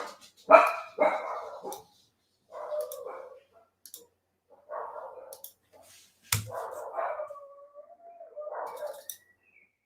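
Several dogs bark excitedly in repeated bursts through a home office, the barks loud and close with short pauses between volleys and no talk over them.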